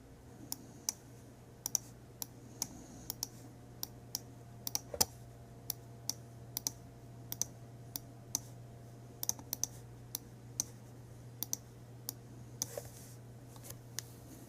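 Computer mouse clicks in music notation software while editing a bassoon part, crisp sharp clicks scattered irregularly at close range over a low steady hum, with no talking.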